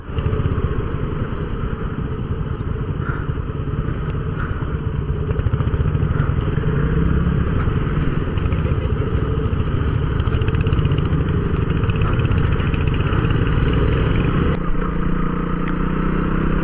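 Loud, steady rumble of a KTM Duke motorcycle engine while riding near Khamrenga Beel, Chandrapur, constant throbbing with slight shifts in pitch and a change in tone near the end.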